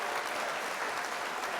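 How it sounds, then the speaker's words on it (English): A small group applauds on a hip-hop talk show, giving brief, steady clapping that fills the whole moment at moderate volume. "Let's clap it up for Grinder Nation."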